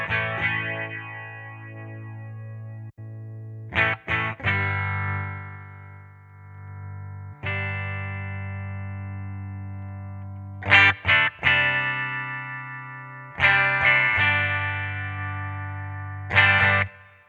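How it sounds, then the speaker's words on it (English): Electric guitar through a Peavey Vypyr X2 modeling amp with distortion, heavy sustained power chords ringing out, re-struck in quick stabs every few seconds, loud and alone. "pre-gain for the amount of distortion"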